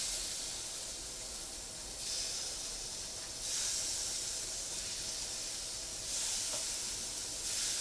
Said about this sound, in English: Oh yeah, that sizzle